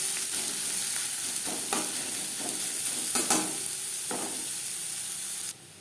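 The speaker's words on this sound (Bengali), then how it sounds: "পেঁয়াজ লালচে করে ভেজে নেব।" Chopped onions sizzle steadily in hot oil in a pan, fried until reddish as filling for aloo kulcha, with a few brief scraping stirs of a spatula breaking through the continuous hiss.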